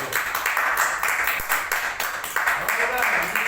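An audience claps to thank Mr. Salim, a dense burst of clapping that swells in waves at close range, with voices talking over part of it.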